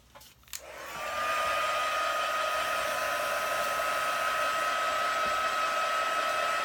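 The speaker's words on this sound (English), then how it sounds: "you can make it rush along with a little heat using the heat gun." A heat gun starts up with a click and ramps into a steady, close whirring blow as it dries a wet craft card, running continuously with no voices.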